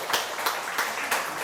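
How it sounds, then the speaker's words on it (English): A small audience claps at a modest lecture-hall event, a light, steady patter of hands that stays fairly soft and even, with no voices over it. "let's give them a round of applause"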